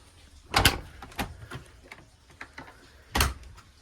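Refrigerator door of a 2010 Jayco Jay Flight 23FB travel trailer pulled open by its handles, giving a couple of sharp close clunks and a latch release, then lighter knocks and rattles, with no talk.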